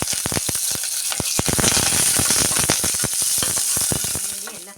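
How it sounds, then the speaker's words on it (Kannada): Onion and curry leaves frying in hot oil for a kabuli chickpea kootu: a dense, close sizzle packed with sharp crackles and pops, loud and steady throughout with no talking. "ಈರುಳ್ಳಿ ಹಾಕಿಬಿಟ್ಟು ಸ್ವಲ್ಪ ಫ್ರೈ ಮಾಡ್ಕೊಳ್ಳೋಣ."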